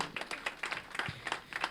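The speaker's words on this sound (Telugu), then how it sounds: "రఘురామకృష్ణ గారికి ఒకసారి గట్టిగా చప్పట్లు కొట్టాలి" An audience clapping for a guest at a birthday celebration, a short burst of scattered, fairly faint handclaps with no voices.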